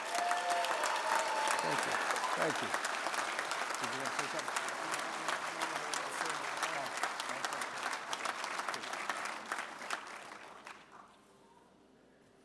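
A large crowd claps and cheers steadily for a heavyweight champion at a ribbon-cutting ceremony at Hollywood Casino Columbus. The applause stays loud and dense, then fades out near the end, with a voice speaking briefly over it.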